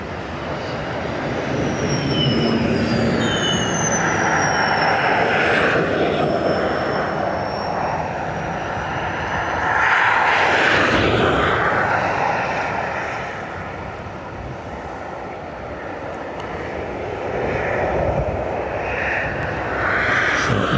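A Ryanair airliner arriving from Stansted roars past at Dublin Airport, its engine noise swelling and fading with whining tones sliding downward, a loud continuous jet rumble heard from outdoors.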